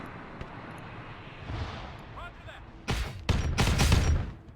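Gunfire in the video game Arma 3 with a Warhammer 40k setting, a low rumbling backdrop that breaks into several loud, sharp bursts of shots toward the end.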